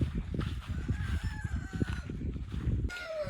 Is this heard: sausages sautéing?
no